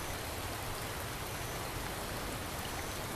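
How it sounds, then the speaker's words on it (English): Steady rain falls in Real VR Fishing, a constant soft hiss of drops with no breaks or variation, heard alone and quietly. "And it's raining"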